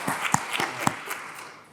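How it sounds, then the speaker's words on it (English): Sparse clapping from a small audience at a business talk, a handful of separate claps fading away over under two seconds. "I'm going to clap for you"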